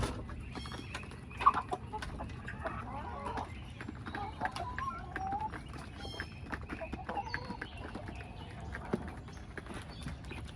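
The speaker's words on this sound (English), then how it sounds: "All my chickens are eating." Backyard chickens feeding outdoors near their coop, with soft scattered clucks and scratching, a few sharper calls, and light rustling, all fairly quiet and close.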